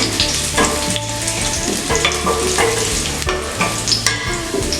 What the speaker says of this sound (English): Now the oil is being heated. I'm going to add a teaspoon of garlic clove. Saute it until it gets nice translucent.